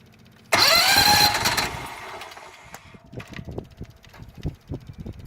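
A small gas engine on a duck boat starts with a loud sudden burst and a rising whine, then falls back to an uneven, sputtering idle with rustling nearby.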